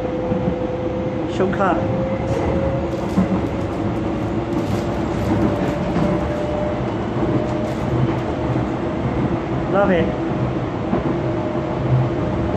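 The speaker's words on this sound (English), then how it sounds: "It's been a while since I got a Docklands train." A Docklands Light Railway train rumbles along with a constant motor hum and rattling, and a few rising electric whines come and go. A person speaks briefly over the noise.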